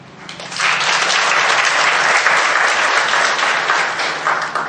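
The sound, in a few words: audience applause for Silvana Desorde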